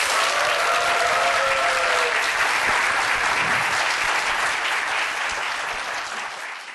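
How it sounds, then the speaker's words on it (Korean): Audience applause at a Korean science startup talk event, a full room clapping steadily and loudly without break, tapering slightly toward the end. "박수 한번 주세요."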